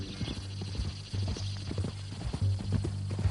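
Horse hooves clip-clop in Red Dead Redemption 2, a steady run of hoof beats over a low rumbling game background, with a brief whinny-like sound near the start.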